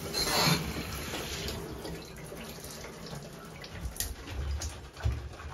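A bicycle is rinsed down with shower water, heard as a continuous hiss and splash of spraying water against the frame, with uneven surges and spatters, close and steady throughout.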